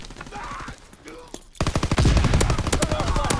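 Tommy gun fire in a video game fight, starting with scattered shots and then breaking into a loud, rapid, sustained burst of automatic fire, close and dominant.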